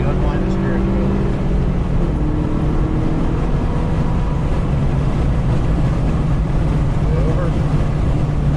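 Race car at Carolina Motorsports Park during a high performance driving session, engine droning steadily as it accelerates toward full throttle out of a corner, loud in-cabin sound with an instructor speaking over it.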